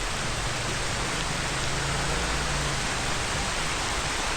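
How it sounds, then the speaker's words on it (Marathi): Heavy rain pours down in a steady, dense hiss with no breaks, filling the whole space evenly and loudly, at Baronda Devi temple in Virar. "कारण पाऊस खूप पडते"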